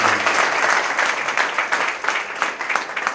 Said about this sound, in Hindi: तो एक बार जोरदार ताली नरेंद्र मोदी जी।